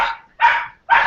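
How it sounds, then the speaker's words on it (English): Dogs barking indoors during an online meeting, three loud close barks in quick succession with short gaps between them. "Sorry, dogs are going mental."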